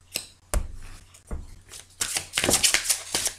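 A deck of tarot-style cards is cut and shuffled by hand: a few sharp separate snaps, then a dense flurry of riffling and slapping cards, close and crisp in a quiet room.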